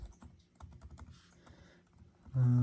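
Rapid, uneven keystrokes clatter on a Lenovo Legion 5 Pro laptop keyboard, close up and moderately loud, with no talking; near the end a sudden louder tonal hum cuts in.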